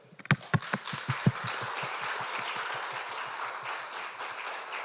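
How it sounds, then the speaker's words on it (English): Forum audience at the Jeju Forum session applauding the speakers, a few sharp, loud nearby claps opening into a steady round of hall applause that holds to the end. "please kindly join me to applaud all the speakers"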